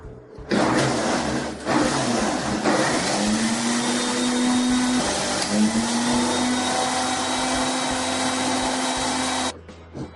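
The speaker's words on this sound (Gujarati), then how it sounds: "હવે તેને મિક્સરમાં મિક્સ કરી લઈશું" A kitchen mixer blends boiled spinach for palak soup, its motor starting abruptly and holding a loud, steady whirring whine for about nine seconds, with slight dips and shifts in pitch before cutting off.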